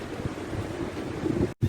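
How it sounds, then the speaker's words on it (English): Waves wash over the pebble beach at Étretat in Normandy while wind buffets the microphone, giving a steady rushing surf with a soft roll of stones and a brief dropout near the end. "of the waves, and then the pebbles. Listen."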